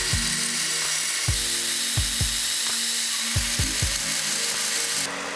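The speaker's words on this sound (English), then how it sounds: "I'll use the flatten and grind up to my scribe lines to grind out the profile of the blade" A 4x36 belt grinder grinds the profile of a forged Damascus dagger blade up to scribe lines, a steady abrasive hiss broken by several sharp ticks and clunks as the steel meets the belt, then cutting out abruptly near the end.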